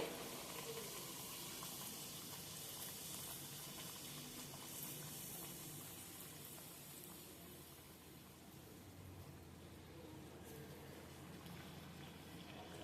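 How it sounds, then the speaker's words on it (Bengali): Dal kachori frying in hot oil, a soft continuous bubbling hiss that fades slightly and stays faint and steady. "আরেকটা কচুরি আমি তোমাদের ভেজে দেখিয়ে দিচ্ছি"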